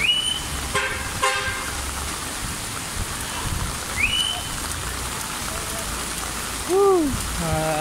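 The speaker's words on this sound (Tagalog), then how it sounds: "Ulan na to." Steady rain pours down in a dense, continuous hiss through the whole stretch, with a few brief car horn toots and faint voices in the background.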